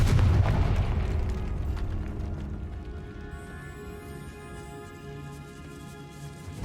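The Confringo blasting spell going off in Hogwarts Legacy sounds like a single heavy booming explosion at the start. Its low rumble slowly fades into a long echoing tail inside a decaying catacomb.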